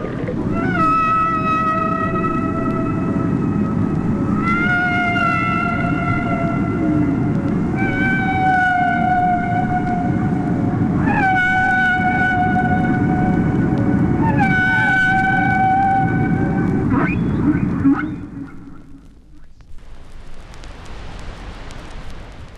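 Whale song with long, loud, tonal moans and rising whoops repeating every few seconds over a deep sea rumble, fading out near the end into soft wash.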